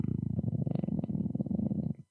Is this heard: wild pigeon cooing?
no